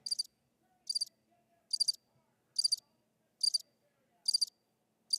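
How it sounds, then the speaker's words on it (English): Crickets chirp in short, evenly spaced bursts, about one per second, high-pitched and clear against an otherwise quiet background. "Yeah, we get crickets."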